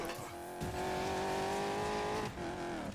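A car in Need for Speed Payback sliding wide through a corner, steady high engine whine with tire squeal, a brief dip before the revving resumes and cuts again near the end.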